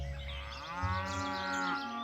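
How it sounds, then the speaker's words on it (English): A cow in a herd feeding on lush vegetation in a field gives one long, close moo, rising and holding for about two seconds over faint outdoor ambience. "a herd of cows finds itself feeding on abundant vegetation"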